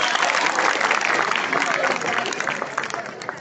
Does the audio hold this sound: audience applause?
yes